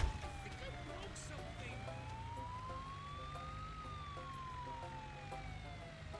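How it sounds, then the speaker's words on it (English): A wailing police siren in the Goat Simulator 3 video game sweeps slowly up and down over low in-game background noise, while a person talks over it. "Toggle siren."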